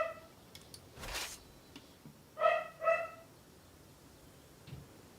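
A dog barks twice in quick succession, sharp and fairly close, with a few fainter yips and whimpers scattered around it in an otherwise quiet room.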